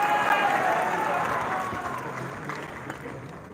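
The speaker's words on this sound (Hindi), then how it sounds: "सुधांशु त्रिवेदी जी की गरिमामय उपस्थिति के लिए जोरदार तालियां" Loud, dense applause from an audience at a Lohri and Makar Sankranti gathering and book event, greeting a dignitary's presence; a broad wash of clapping and crowd noise that slowly fades.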